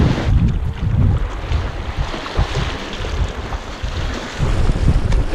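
A homemade battery-powered electric surfboard rides across a lake, heard as loud rushing wind buffeting the microphone over splashing water and hull slap, steady and close throughout with no voices.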